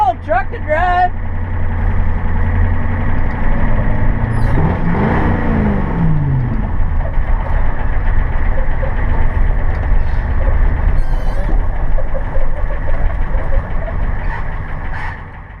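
Diesel Ford F250 pickup with a 7.3 IDI engine runs steadily nearby, its low rumble rising as it pulls through the gears, with a brief rev swell early on.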